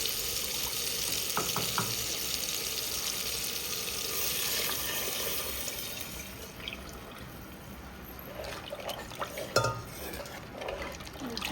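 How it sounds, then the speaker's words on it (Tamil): Tamarind water pours steadily into a pan of fish curry with a continuous splashing rush, fading slightly before a few clinks and stirring sounds near the end. "இப்போ நம்ம இந்த புளி கரைசலை இதில் சேர்த்துப்போம்"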